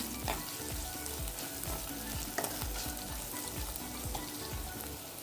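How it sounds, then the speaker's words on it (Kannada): Green chillies frying with softened tomato in a pan for egg curry: a continuous dense sizzle with quick, regular spatula stirs scraping throughout, close up and without talk. "ಈಗ ನಾನು 2 ಹಸಿಮೆಣಸಿನ್ಕಾಯಿ ಸೇರಿಸ್ತಾ ಇದ್ದೀನಿ. ಚೆನ್ನಾಗಿ ಫ್ರೈ ಮಾಡ್ಕೊತಾ ಇದ್ದೀನಿ."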